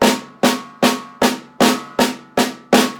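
Drums struck in an inverted paradiddle sticking for a sixteenth-note beat, eight sharp, evenly spaced hits with ringing decays, close and clear with no voices.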